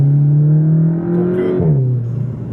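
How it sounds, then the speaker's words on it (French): A Golf GTI four-cylinder with a sport exhaust revs loudly nearby, holding a steady drone before the pitch dips and settles as the revs drop. No voices over it. "J'adore moi le bruit des 4 cylindres avec un bon échappement"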